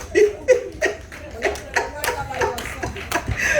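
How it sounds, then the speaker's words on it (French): At a health conference, an audience claps for a doctor, with loud, distinct, fairly rhythmic hand claps mixed with voices and some laughter. "On peut applaudir le Dr. Bride."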